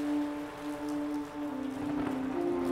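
Steady rain patters on a surface, a dense, even hiss of drops with a low hum running underneath, continuous throughout.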